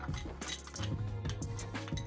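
Gram flour is stirred with buttermilk into a slurry for dahi kadhi, the spoon clinking steadily against the vessel in a busy, continuous run of small taps and scrapes.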